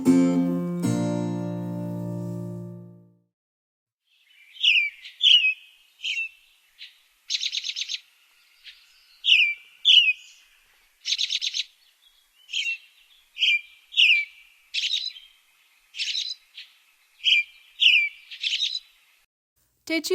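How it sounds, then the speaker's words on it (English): American robin song in a backyard: a series of clear, whistled chirping phrases repeating in an irregular rhythm, close and distinct with quiet gaps between them, following a brief harmonic tone at the start. "Today's bird is an American robin."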